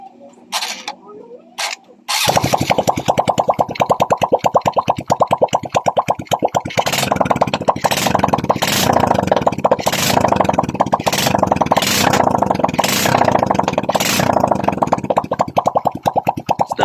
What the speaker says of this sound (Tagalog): So, andar natin ang motor.